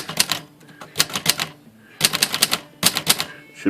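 Royal Futura typewriter with a repaired spring-loaded ribbon vibrator, typed on in three quick bursts of sharp key strikes. The clacks are loud, close and rhythmic, with brief pauses between runs.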